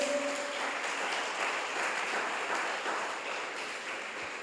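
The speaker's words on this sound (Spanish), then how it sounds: "dale un fuerte aplauso al Señor entonces" Applause from a church congregation during an online worship celebration, a steady broadband patter of many hands clapping that holds for several seconds, moderately loud and fairly distant, fading slightly toward the end.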